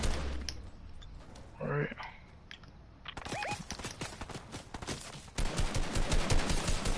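Rapid gunfire bursts crackle in a Fortnite match, dense volleys building in the second half alongside clattering effects, with players talking over it.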